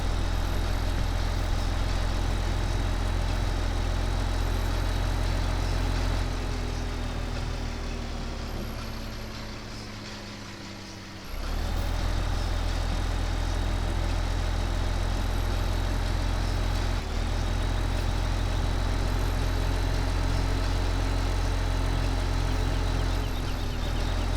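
Steady, continuous tractor engine drone from the Farming Simulator 2015 video game, loud and unbroken, dipping briefly in level partway through before resuming at full strength, with no talk over it.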